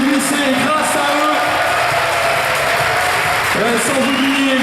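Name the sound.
applause for the club's founders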